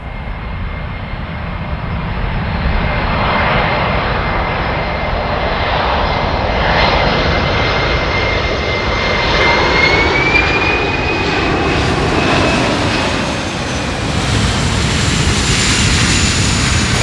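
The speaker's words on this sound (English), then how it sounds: "Airplanes continue to arrive" Aircraft engines drone steadily as airplanes arrive at Rentschler airfield in light rain and fog, a continuous loud rumble with a faint rising whine partway through, no voices.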